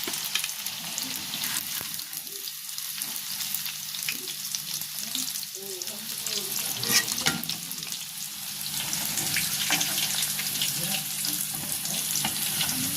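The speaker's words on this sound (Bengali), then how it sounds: "হালকা লাল লাল করে ভেজে নেব।" Food fries in hot oil for restaurant-style palak paneer, giving a continuous close sizzle that grows a little louder toward the end.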